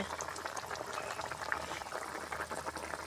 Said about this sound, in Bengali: তরকারিটা কি সুন্দর টকবক টকবক করে ফুটছে।